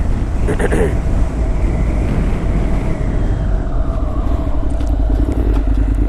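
A 2016 Honda NC700X automatic motorcycle rides along in D mode, its engine drone loud and constant under heavy wind rush, with a brief higher whine near the start.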